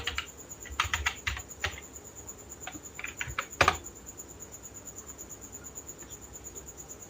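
Keys clicking on a computer keyboard as a search for WireShark is typed, quick irregular bursts of close, quiet taps ending with a firmer keystroke, then a faint steady background hum.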